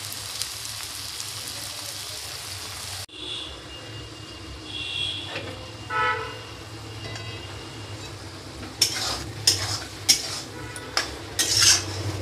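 A utensil stirs and scrapes through vegetables in a metal cooking pot, soft shuffling mixing with a few sharp clinks of spoon against pan toward the end, close and without voices.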